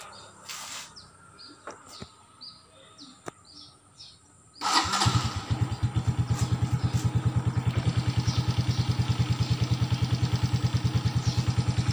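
Suzuki Smash FI motorcycle engine started after quiet outdoor ambience with birds chirping, then settling into a steady, evenly pulsing idle heard close by for the remaining seconds.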